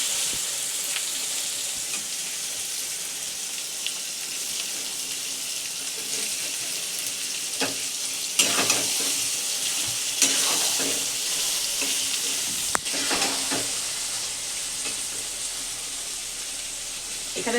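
About 1.5 kg of loitta fish (Bombay duck) frying in oil in a pan, giving a loud, continuous close sizzle with occasional sharp clinks and a few brief stirring bursts.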